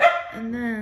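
A dog gives one loud, close bark, then a sustained whine-like tone follows, while a person speaks briefly over it indoors.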